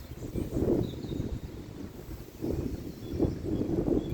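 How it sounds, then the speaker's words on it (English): Gusty wind buffets a microphone in an open outdoor spot, with low rumbling bursts that swell and fade in several waves over a quiet background. "Suddenly got very windy because we're out in the open again."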